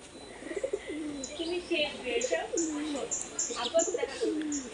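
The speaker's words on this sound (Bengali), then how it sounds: "আর আমাদের কবুতরগুলো ভালো আছে আল্লাহর রহমতে।" Pigeons kept on a small animal farm coo softly in repeated low, wavering calls, with light chirps and tweets scattered above them, close by and fairly quiet.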